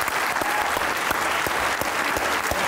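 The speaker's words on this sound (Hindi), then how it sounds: "आपकी भरपूर तालियों में सैयद सलमान गिलानी" A studio audience breaks into dense, continuous applause to welcome poet Syed Salman Gilani, a short, loud, even burst of clapping.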